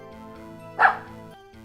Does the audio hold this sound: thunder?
no